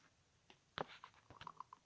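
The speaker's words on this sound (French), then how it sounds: "j'ai croqué mon bonbon pour pouvoir l'avaler" A hard candy is crunched in the mouth, a few crisp, sharp cracks and small crackles up close and quiet, with no talking.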